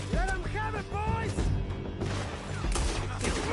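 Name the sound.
gunfire in shootout, from video game Red Dead Redemption II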